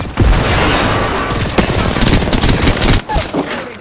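Rapid automatic gunfire bursts and booms in Apex Legends, dense and loud with a brief gap near the three-second mark.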